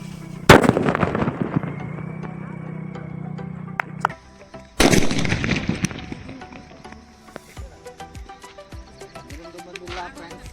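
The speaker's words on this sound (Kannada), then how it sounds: "ಮತ್ತೊಂದು ಬಾಂಬ್ ಹಚ್ಚೋಣ" Two loud firecracker bombs burst against a padlock, each a sharp blast followed by crackling fizz, the second blast about four seconds after the first, and scattered crackles trail off afterward.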